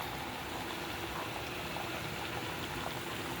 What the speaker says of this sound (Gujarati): આવી બધી ટીક્કીઓ વાળી દીધી અને જો આપણે આ તળીએ છીએ.